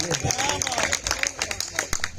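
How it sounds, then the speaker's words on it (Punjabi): An audience claps together in a steady rapid patter of many hands, loud and close, with a voice talking over the applause. "ਤਾੜੀਆਂ ਬਈ ਤਾੜੀਆਂ ਇੱਕ ਬੰਦਾ ਤਾੜੀ ਲਾਉਂਦਾ"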